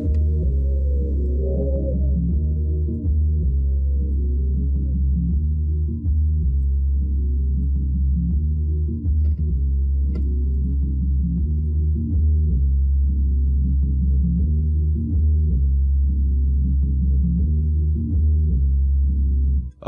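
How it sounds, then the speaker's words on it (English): An isolated bass line from a sample in FL Studio plays as deep, sustained, repeating low notes in a steady loop, clean and loud with no talk. "now you have basically a nice little bass to add to it"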